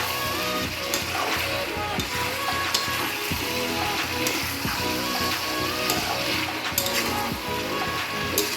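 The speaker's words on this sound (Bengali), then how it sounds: "ভেজে রাখা আলুগুলো দিয়ে দিলাম, একটু নাড়িয়ে দেবো।" Fried potatoes drop into chicken cooking in hot oil, a steady loud sizzle running throughout with scraping clicks and knocks of stirring in the pan.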